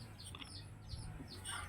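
Chickens being carried cluck and squawk softly in a series of faint, scattered calls over a steady low background hum outdoors.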